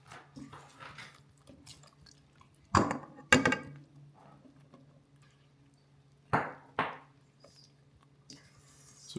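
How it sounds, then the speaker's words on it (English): A wooden spoon stirs and combines dough ingredients in a bowl, with several sharp knocks and scrapes against the bowl separated by quieter stretches of soft mixing, up close. "We've got a wooden spoon, or our pink spoon in this case. So we're just going to combine."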